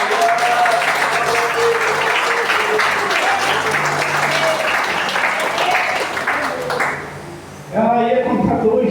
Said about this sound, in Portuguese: Será que você pode dar um aplauso para Jesus?